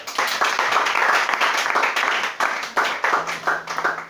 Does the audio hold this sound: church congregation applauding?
yes